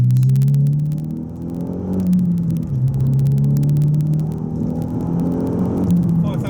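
A Renault Megane R26 F1 230 hot hatch accelerates hard on a B road, its engine note climbing steadily through the revs in a loud, continuous drone, with a brief dip around a gear change before pulling again.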